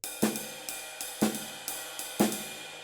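A ride cymbal rings in a steady swinging pattern, with snare hits landing on accented beats under a continuous metallic wash.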